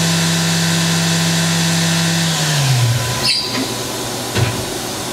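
A Fadal VMC-4020 vertical machining center spindle runs at 10,000 RPM, a loud, close, steady whine that falls in pitch as it starts to wind down, with brief mechanical clicks near the end.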